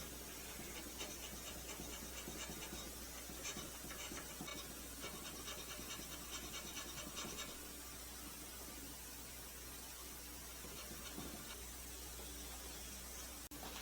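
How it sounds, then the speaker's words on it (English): Hand scraper working the carriage of an Atlas lathe to fit it to the bed ways, a steady, continuous rasping scratch close by, with short repeated strokes blending into an even hiss throughout. "This is just going to be a quick scrape on this side."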